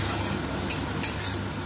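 Spice paste for a Bengali fish curry being stirred and fried in a pan, a steady soft scraping and low sizzle with a few brighter utensil scrapes against the metal, close and continuous with no talking.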